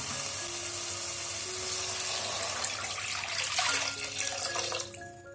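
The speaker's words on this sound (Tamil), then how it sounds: "இப்ப தண்ணி சேர்த்திக்கலாம்." Water pours steadily into a pot of sautéed masala for green gram rice, a continuous close splashing and hissing stream that runs for about five seconds before tapering off.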